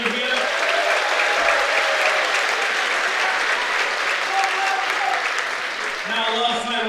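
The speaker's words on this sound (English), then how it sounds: "give a round of applause for all of you here" A sold-out crowd applauds at a live professional wrestling show in Melbourne, loud continuous clapping filling the hall, with a few faint voices rising near the end.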